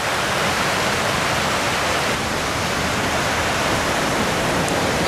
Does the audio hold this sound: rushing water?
yes